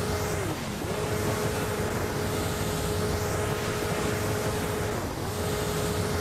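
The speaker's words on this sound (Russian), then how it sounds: "мне нравится, как вертушка здесь крутится" A spinning helicopter rotor in the mobile game Hill Climb Racing 2 makes a continuous whirring drone with a steady whine that dips briefly twice, loud and alone.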